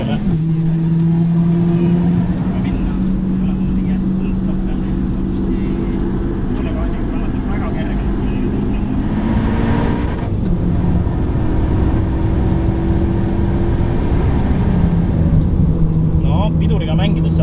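A Toyota GR sports car engine revs high on a race track during a track day, with a continuous loud whine rising and falling in pitch, and someone talks over it.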